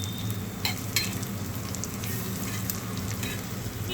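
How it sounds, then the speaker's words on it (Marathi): Slices of elephant foot yam fry in a pan with a steady, close sizzle and crackle, punctuated by a few brief utensil clicks and scrapes, with no talking. "थोड्या वेळाने जरा परतून घ्यायचे, अजून थोडे लाल झाले पाहिजे."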